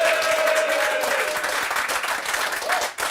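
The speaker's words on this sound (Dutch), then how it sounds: "En we hebben een muzikaal publiek, ze kunnen goed klappen." Loud, sustained applause from a music-loving studio audience at a live Frisian café broadcast, dense clapping throughout with a faint tone early on and a brief dip near the end.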